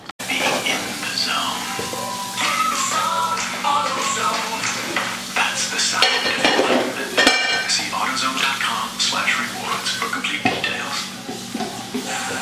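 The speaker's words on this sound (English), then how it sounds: "if you have any wait time, wash your dishes" Dishes, pots and pans washed in a home kitchen during cooking downtime, with steady clinks, scrapes and rattles of cookware and cutlery over running water, close and fairly loud, while a person speaks at times.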